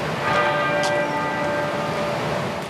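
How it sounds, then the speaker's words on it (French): A single deep church bell tolls at the Queen's funeral, one strong strike ringing out with a long sustained hum that slowly decays, loud and alone. "Une cloche résonne, la première des 96 qui retentiront toutes les minutes, une par année de vie."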